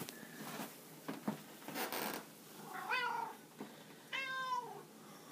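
A cat gives two distinct meows a second or so apart, the second louder and more drawn out, after some soft rustling and zipper-like scraping near the start.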